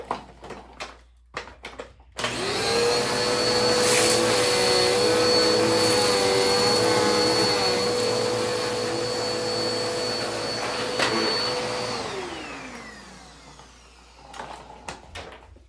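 A Bissell CleanView vacuum cleaner on its bare floor setting starts up loud and close, runs steadily with a high whine for about ten seconds while pushed forward and back, then winds down, with brief handling noises before and after.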